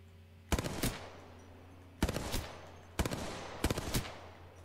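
Bursts of automatic gunfire in the Apex video game, aimed at a flyer: four separate volleys of rapid, loud shots, each burst short and sharp, with steady hum between them and no talking.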